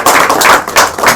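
Brief burst of audience clapping at a media interaction event, a short loud patter of many hands lasting about a second.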